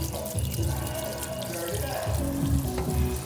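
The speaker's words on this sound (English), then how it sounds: "We're going to add cold water because we want it to stop cooking, right?" Cold tap water splashes and pours onto freshly boiled lasagna noodles in a kitchen, a steady close rushing stream with bubbling and clatter, continuous and moderately loud.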